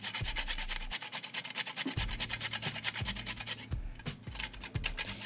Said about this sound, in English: take our grater right into the bowl and just go down